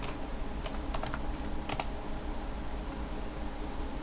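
Typing a sudo ufw status command on a computer keyboard, a short quiet run of light clicking keystrokes in small bursts over a steady background hiss.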